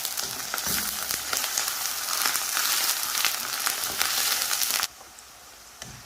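Onions sizzle steadily in a pan with ginger and garlic paste, a close, even frying crackle broken by light stirring scrapes until it drops away sharply near the end.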